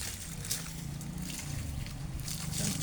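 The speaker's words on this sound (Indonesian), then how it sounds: "Kita siramkan di bonggolnya yang kena penyakit" Liquid treatment poured onto the base of a banana plant diseased with fusarium wilt, a soft, close trickle and slosh of liquid running steadily, fairly faint against a noisy outdoor background.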